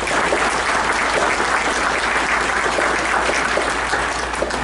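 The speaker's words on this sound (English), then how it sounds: "All right, let's give everyone an applause." An audience applauds in a continuous, even wash of clapping that holds at a steady level throughout, with no voices rising above it.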